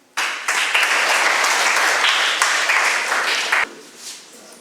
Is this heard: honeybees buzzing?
no